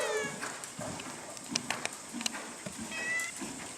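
A house cat meows faintly a few times at a horse riding lesson, the high cries rising above the thud of hooves as a horse canters in circles.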